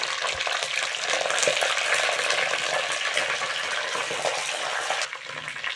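Curry leaves crackle and sizzle in hot oil for a fish curry, a loud, steady, close frying hiss that runs throughout with a brief dip near the end.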